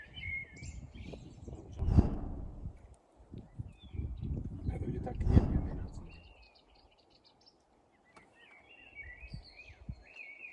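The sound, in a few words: birds chirping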